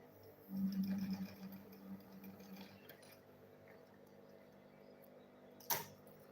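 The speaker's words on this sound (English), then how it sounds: "Then I'll go ahead and sew it again." A sewing machine stitches a bag in a short, loud burst near the start, then runs in quieter intermittent spurts before a brief clink near the end. No one speaks.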